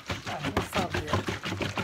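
Butter in hot water sloshing inside a closed container as it is shaken by hand, quick rhythmic knocking and splashing pulses, close and fairly loud with no talk.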